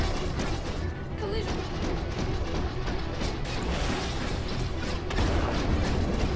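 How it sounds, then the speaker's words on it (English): Missiles launching during a space dogfight against a Vanduul swarm in the Star Citizen Arena Commander game, heard as dense rumbling blasts and booms over a constant loud roar of ship noise and combat effects. "I have no guns, all I have is missiles."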